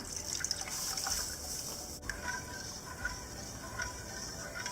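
Water is poured into a pan of milk while making paalada payasam, a soft liquid trickling and dripping that runs steadily and fairly faint, with a brief knock near the middle.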